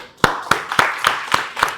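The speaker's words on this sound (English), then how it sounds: "let's clap for her" Applause for a 24-year-old woman author, a run of six sharp, evenly spaced claps less than a third of a second apart, fairly close and moderately loud, with no talking over them.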